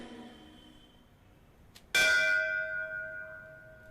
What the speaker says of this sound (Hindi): घंटी की आवाज आ रही है ना?